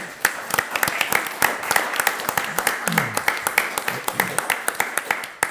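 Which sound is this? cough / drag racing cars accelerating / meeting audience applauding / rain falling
meeting audience applauding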